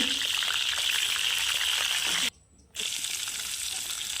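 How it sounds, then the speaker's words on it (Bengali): Rohu fish head frying in hot oil in a wok gives a loud, steady hiss and crackle, cutting out briefly to near silence before resuming at full strength. "মাছের মাথা ভেজে নেব"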